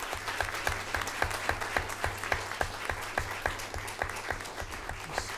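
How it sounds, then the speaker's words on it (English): A school board of education meeting audience claps for its students, a fairly quiet, even, rhythmic round of applause over a low steady hum in the room. "I want to give all of our young people a great big round of applause."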